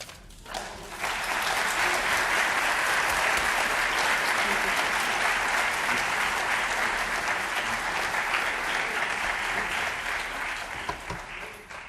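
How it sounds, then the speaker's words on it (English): An audience at a scholarship event for Herman Badillo breaks into long, loud applause that swells quickly and holds steady for many seconds before easing off, with faint voices underneath. "Another round of applause, please."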